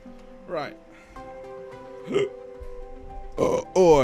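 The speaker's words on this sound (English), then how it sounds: "That's a nasty burp." Several loud, close burps from a man, spaced out over a few seconds with brief quiet gaps, the last ones longer and more forceful.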